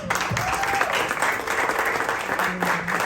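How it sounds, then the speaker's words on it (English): An audience at a fashion designer interview event applauds steadily throughout, a dense continuous patter of clapping with a few faint voices and whistles mixed in. "Another round of applause, everyone."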